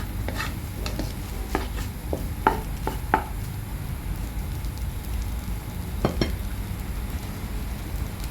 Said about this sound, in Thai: ผัดข้าวไปก่อนนะคะ ผัดให้ส่วนผสมเข้ากันนะคะ